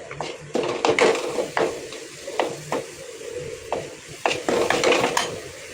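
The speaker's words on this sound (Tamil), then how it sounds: "அப்படியே கொஞ்சம் கிண்டிகிட்டு இருக்கணும்" Urad dal kali is stirred in a pot with sesame oil, a spoon scraping and knocking against the pot in irregular strokes, close and fairly quiet with a faint sizzle beneath.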